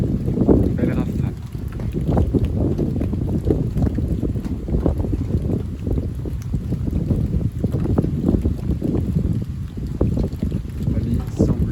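A strong storm gust from storm Darragh roars as a dense, steady wind rush buffeting the microphone, broadband and loud for the whole stretch, with a voice faintly present beneath.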